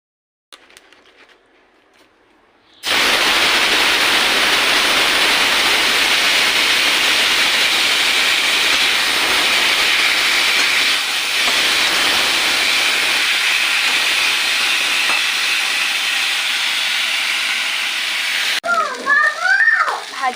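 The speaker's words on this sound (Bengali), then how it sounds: "এরপর ভাজবো কুমড়ো" Salted, turmeric-coated pumpkin slices fry in a hot pan. A loud, steady sizzling hiss bursts in after a quiet start and runs unbroken, and a voice comes in briefly near the end.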